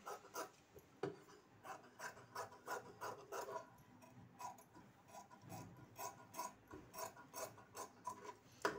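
Scissors snip fabric while cutting around a blouse back neck, making a regular series of short, crisp rasping cuts in quick rhythm, close and faint, with no talking.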